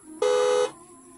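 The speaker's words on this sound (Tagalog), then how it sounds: "Susiin natin, pindutin ang busina." A magic horn fitted to a motorcycle sounds once, a single loud, steady electronic tone lasting about half a second, close up with no talk.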